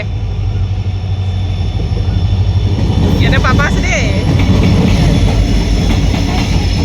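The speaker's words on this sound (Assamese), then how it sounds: "ট্ৰেইন আহি গৈছে" A train rumbles past close by, loud and continuous with rattling wheels, while a person speaks briefly over the noise.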